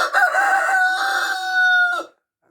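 A hen sitting in her nest, an ailing bird that has been sneezing and coughing, gives one loud, drawn-out, wavering call lasting about two seconds, close to the mic, then falls silent.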